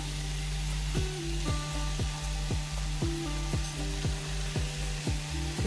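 Chopped radish and its greens sizzle steadily in a hot pan with dried shrimp, with regular scraping stirs ticking through the constant frying hiss.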